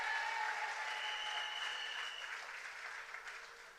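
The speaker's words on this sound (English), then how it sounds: "Can we give her a round of applause again?" Audience applause at a political gathering in Diego Martin, a fairly soft, even wash of clapping that gradually tapers off.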